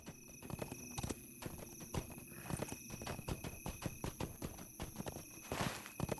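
Horse hooves clip-clopping at a steady walking pace in the Lord of the Rings Online video game, with close, regular, fairly loud hoof falls and no talking.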